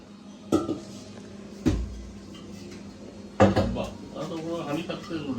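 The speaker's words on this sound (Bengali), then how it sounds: "এখন বড় হাঁড়ি নামানো হবে" A large metal cooking pot is set down and handled in a home kitchen during festival cooking, giving three sharp metallic clanks with rattling after each, while people talk nearby.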